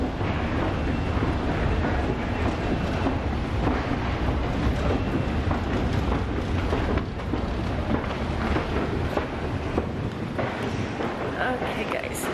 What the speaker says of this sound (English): Okay, guys, we are in the train station.